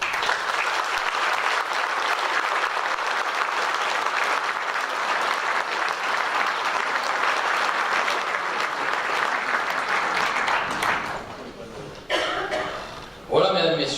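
Audience at a 2018 New Year's civic address in Aire-sur-l'Adour applauding the municipal agents: sustained, dense hall-filling clapping for about eleven seconds, then thinning out with a brief resurgence near the end.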